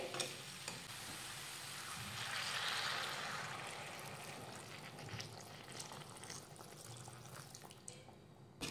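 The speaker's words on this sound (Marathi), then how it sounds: "यामध्ये घालूयात गरम पाणी" Hot water poured into a traditional Maharashtrian mixed-vegetable curry (bhogichi bhaji) in a pan, making a faint rushing splash that swells briefly and then settles into a soft, low simmering sizzle, with no speech.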